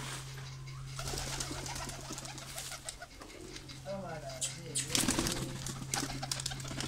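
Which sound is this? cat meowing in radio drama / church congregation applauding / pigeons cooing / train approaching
pigeons cooing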